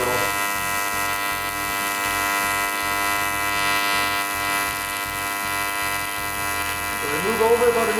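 Aluminum being TIG welded with filler rod dabbed into the puddle, a steady electric buzz and hum holding throughout with a brief rougher crackle near the end.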